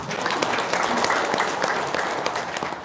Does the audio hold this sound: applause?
yes